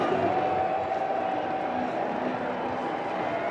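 A baseball stadium crowd at a Minnesota Twins versus Chicago White Sox game, a steady, broad roar of cheering that holds at an even level for a few seconds.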